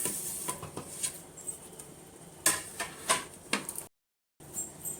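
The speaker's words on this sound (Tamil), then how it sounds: "ஃபஸ்ட் நம்ம கீரையை பொடியாக நறுக்கி எடுத்துக்கலாம்." A knife chops small leafy greens finely on a cutting board in irregular taps, a few sharper strikes standing out, close and clear with no talking.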